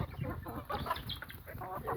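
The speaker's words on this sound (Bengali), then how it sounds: "এগুলো হচ্ছে আমাদের দেশি মুরগির প্রজেক্ট" Native desi hens on a farm cluck in soft, irregular bursts close by, several birds overlapping in a busy, low-level chatter with no talk over them.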